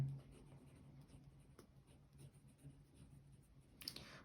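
Caran d'Ache 844 mechanical pencil with 0.7 mm lead writing on paper, a quiet, close, continuous graphite scratching with faint strokes and a brief louder tap near the end.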